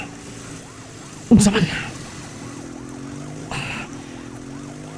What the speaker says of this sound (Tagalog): Sirina sakinan sa pulis.